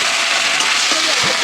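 Garlic, cumin, onion and ginger paste sizzling in a hot pan for egg paturi, a loud, bright, continuous crackling hiss up close with a faint scrape near the end.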